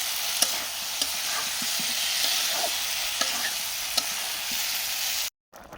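Potatoes stirred into a frying spice masala of turmeric and chilli powder in a pan, a steady loud sizzle with periodic scraping stirs, no talk, ending abruptly.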